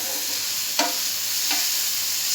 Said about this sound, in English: slowly stir it sometime